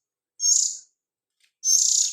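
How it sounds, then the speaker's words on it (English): A young black-billed magpie, nearly ready to fly, gives two drawn-out, high, squealing calls separated by a short silence. The calls are close and clear, and no one talks. "This is actually a black-billed magpie."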